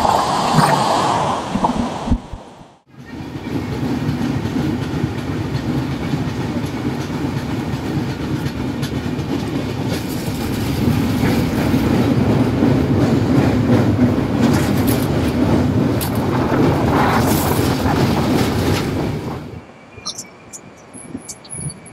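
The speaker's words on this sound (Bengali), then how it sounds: "চলে এসছে ট্রেন নাম্বার 12073 হাওড়া থেকে ভুবনেশ্বর জনশতাব্দী এক্সপ্রেস" A Howrah–Bhubaneswar Jan Shatabdi Express train pulls into Santragachi station at night, running late; a loud, steady rumble of rolling wagons with rhythmic clickety-clack of wheels on rail joints continues for about twenty seconds before cutting off.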